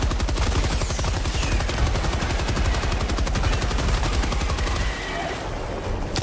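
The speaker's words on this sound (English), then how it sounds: "Machine gun, baby!" Machine-gun fire in the Helldivers video game roars in a loud, continuous rapid burst for about five seconds before easing off, dense and close.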